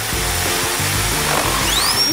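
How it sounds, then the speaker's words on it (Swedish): A power drill in a video game whirs loudly and continuously over a rhythmic game soundtrack, with a rising whine near the end. "jag har en borrmaskin"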